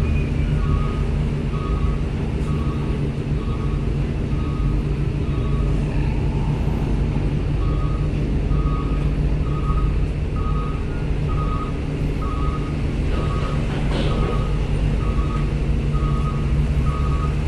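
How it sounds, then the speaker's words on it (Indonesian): Vehicles drive up the ramp onto the upper deck of the ferry KMP Wirakencana at Bakauheni port, a steady rumble of engines and traffic with a repeating reversing-style beep throughout. "kita lihat kendaraan yang naik ke KMP Wirakencana lewat setrem menuju ke upper deck"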